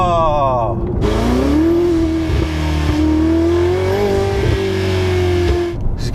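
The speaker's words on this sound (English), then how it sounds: "I'm loving that dump valve thing" A Ferrari 488 GTB twin-turbo V8 revs loudly and steadily close by, its engine note rising and falling, with dump-valve chatter and people talking over it.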